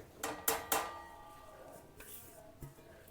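Roasted wheat flour is tipped into a pan for atta halwa, with three quick metallic clanks of a bowl or spoon against the pan, then softer scraping and a final light knock, close and fairly quiet.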